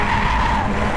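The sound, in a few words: Mazda MX5 race car sliding at Snetterton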